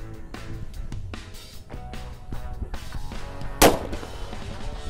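A sunflower firecracker bangs sharply once amid a busy stretch of crackling, popping bursts and background clatter.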